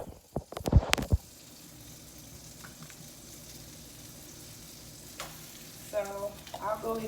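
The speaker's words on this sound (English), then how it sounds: "So I'll go ahead and add my crab meat to it." Crab meat dropped into a pan of melted butter: a sharp clatter and splash at first, then a quiet steady sizzle, with brief stirring scrapes near the end.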